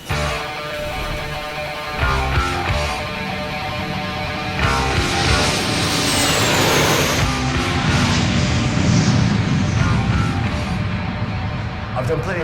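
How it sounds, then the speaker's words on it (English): Boeing 757 airliner engines spooling up for takeoff: a loud, continuous roar with a rising whine that builds and holds steady across the run. "I've done plenty of takeoffs in Boeing 757s, but this particular one was rather special."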